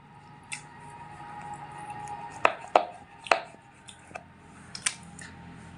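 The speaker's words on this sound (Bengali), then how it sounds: "এবার লম্বায় যেই অংশটা লম্বায় আমি এরকম একটা ছুরি দিয়ে ফাল দিয়ে নেব" A knife cuts lengthwise through a square of crisp-snack dough made from potato, flour and egg. The cuts come as quiet, close, scattered taps and soft squishes against a board, with no talk.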